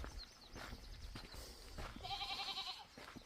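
Goats bleat in a few short, wavering calls, close and moderately loud, with the clearest cry near the end over quiet outdoor background.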